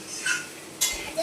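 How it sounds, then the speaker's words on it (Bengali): An aunt cooking chow mein in a pan makes soft metallic clinks and scraping stir sounds, with two brief sharper knocks over a quiet background. "কাকিমা চাউমিন রান্না করছে।"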